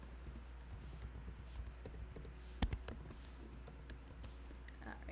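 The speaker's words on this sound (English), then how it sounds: "I'm getting tired of typing this all out" Fingers type on a computer keyboard, producing a steady patter of soft clicks with a short burst of louder keystrokes midway.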